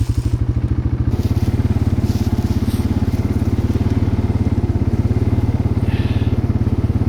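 A motorcycle crosses a swamp at night with a loud, steady, close engine drone pulsing rapidly throughout, with faint crackles of vegetation or ground underneath.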